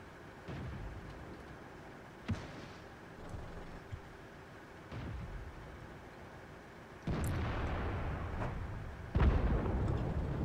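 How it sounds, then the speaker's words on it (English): Artillery fire in the tank video game World of Tanks, several distant booming shots spaced apart over a low rumbling battle background, the last ones louder and heavier. "Come on, artillery, deal with that IS now."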